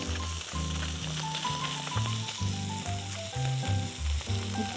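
Salmon fillets cook in a hot pan with a steady, bright sizzle, partly masked by background music with a stepping melody.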